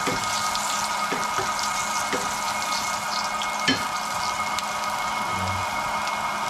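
Garlic sautéing in a pan sizzles steadily and close, broken by a few light clicks and stirring taps from a utensil.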